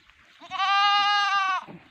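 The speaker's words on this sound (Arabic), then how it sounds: "هذا فيديو خاص بي ماعز الموريسيانو الاسباني" A Spanish Murciano goat gives one loud, close, sustained bleat lasting about a second, standing alone against a quiet background.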